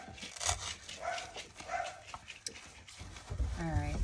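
Several dogs bark and yip excitedly at moderate distance, with a whimper-like cry near the end, mixed with background room noise and some talking.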